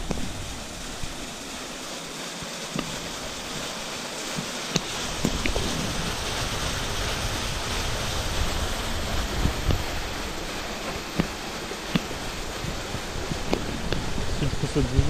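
Falling water at the Etar open-air museum near Gabrovo, a steady broadband rush like a close waterfall or millrace, continuous and fairly loud throughout with faint scattered knocks.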